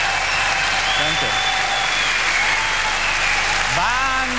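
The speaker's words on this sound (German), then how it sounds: "Dieser Applaus, meine Damen und Herren, erweckt Erinnerungen an längst vergangene Grand Prix-Zeiten." Sustained audience applause fills a hall at the 1997 German Eurovision Song Contest preselection show, steady and loud throughout, with a few cheers and whistles rising over the clapping.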